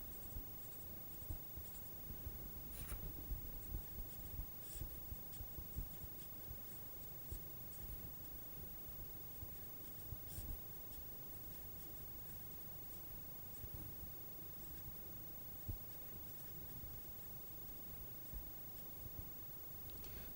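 A pen writes on a sheet of paper during a maths working, a steady close scratching and rustling that runs throughout with small taps, over a faint hiss.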